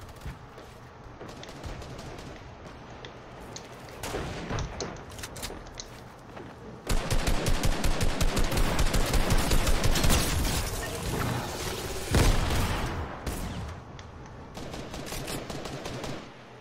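Rapid bursts of video game gunfire crackle in dense volleys, getting louder and more intense midway through, with no talking over the shots.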